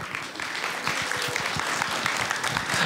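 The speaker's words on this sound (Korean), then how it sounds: "여러분 큰 박수로 맞아주시기 바랍니다" Audience applause at a talk concert for the musical Sherlock Holmes, welcoming a musical actor: dense, sustained clapping from a crowd filling the room, steady and even in intensity throughout.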